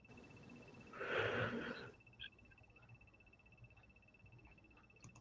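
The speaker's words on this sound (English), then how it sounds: "He's snoring very loudly." A pet dog snores indoors: one rough, breathy snore rises and fades over about a second, followed by quiet room noise. It is fairly faint overall, with no one speaking.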